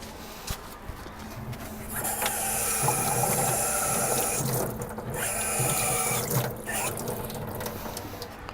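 Hot fabricated metal for a 1932 Ford engine mount dunked in a wash tub of water, a sustained hiss and bubbling rush that swells and fades over several seconds in a shop, with no talk.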